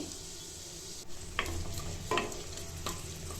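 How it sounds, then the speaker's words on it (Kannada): Onions fry in a couple of spoons of oil in a pan, a soft steady sizzle broken by three short scraping stirs of a spatula. "ಒಂದು ಪ್ಯಾನ್ ಇಟ್ಕೊಂಡು ಒಂದೆರಡು ಸ್ಪೂನಷ್ಟು ಎಣ್ಣೆ ಹಾಕ್ಕೊಂಡು ಈರುಳ್ಳಿ ಹಾಕ್ಕೊಳ್ತಿದ್ದೀನಿ"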